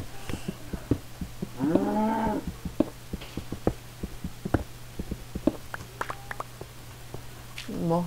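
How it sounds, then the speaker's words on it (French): Minecraft cow mooing in a few drawn-out lowing calls, one around the middle and another starting at the end, over steady background hum and sharp clicks from play, with no speech. "J'ai une vache juste à côté de moi"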